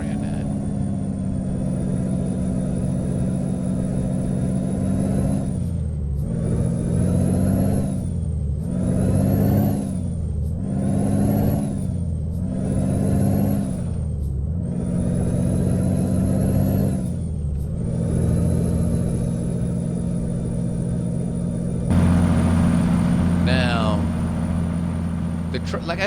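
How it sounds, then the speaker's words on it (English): A Freightliner Coronado truck engine in American Truck Simulator drones loudly and continuously, rising and falling through repeated gear shifts and revs with a whining top note, while someone talks over it. "the sound of the truck is not bad"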